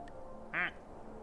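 A single short, clear quack from a rubber duck in Placid Plastic Duck Simulator, standing out over a quiet, soft background.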